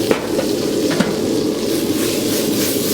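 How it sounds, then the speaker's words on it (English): Plant-based shrimp and Mindful Chik'n saute in hot oil, giving a loud, continuous, dense sizzle with a few faint clicks from stirring. "Give this a quick saute."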